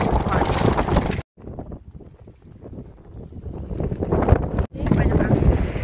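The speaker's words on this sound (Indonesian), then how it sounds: "Ini banyak angin." Strong wind buffets the microphone outdoors beside a flower-growing greenhouse in the Netherlands, coming in loud rumbling gusts with a brief lull in the middle; a person talks over part of it.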